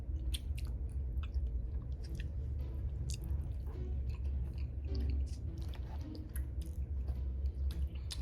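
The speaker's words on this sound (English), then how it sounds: "Close your mouth while you chewing." Someone chews food with the mouth open at a Thanksgiving soul food dinner, giving quiet, wet, smacking bites and squishes that repeat steadily for several seconds without speech.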